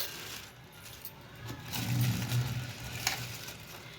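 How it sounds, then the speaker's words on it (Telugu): A puri dropped into hot oil, with a soft sizzle and bubbling that swells in the middle, plus a light metallic clink, fairly quiet and close, no speech. "ఇప్పుడు ఇలా ఆయిల్లో వేసుకొని కాల్చుకోవాలి."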